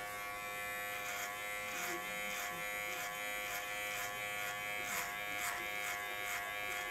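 An electric hair clipper fitted with a number one guard buzzes steadily up close while cutting hair for a zero fade, with a rhythmic pulsing as it passes through the hair and no talking.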